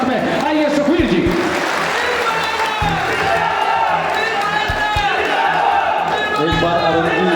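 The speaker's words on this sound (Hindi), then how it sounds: "जोरदार तालियों के साथ में" Crowd at a Hindi political gathering applauding to welcome Sukhbir to the stage, loud continuous clapping and cheering mixed with a voice over a PA and some bangs.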